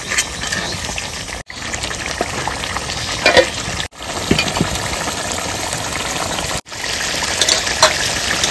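Mutton and papaya curry being poured out of a pot, a loud, steady wet gush and sizzle with a few short breaks, no talking.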